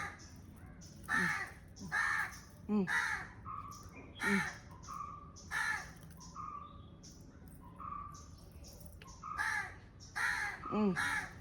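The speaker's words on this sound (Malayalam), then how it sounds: "കോഴിയല്ല, അത് കാക്ക." A crow caws repeatedly, about a dozen harsh calls in an uneven rhythm, fairly faint and at a moderate distance.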